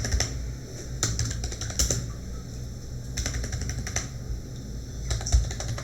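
Steady typing on a computer keyboard while working in Photoshop, with irregular clusters of light key clicks and a few louder taps over a low background hum, close and fairly quiet.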